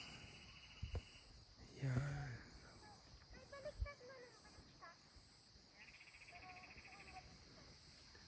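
Faint, steady cricket chirring runs through the background beside a river in Gloria, Oriental Mindoro, Philippines, with a brief spoken word and some movement noises near the microphone.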